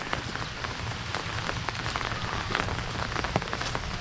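Steady rain pours onto a farm in Thailand during the flooded rainy season, a dense, even patter of drops close by that continues without pause and without any voices.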